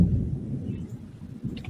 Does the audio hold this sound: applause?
no